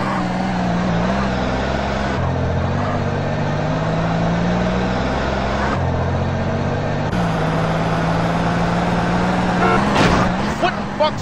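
A car engine drones steadily through GTA San Andreas streets, with a sustained motor hum that shifts in pitch as gears change, heard close and continuous throughout.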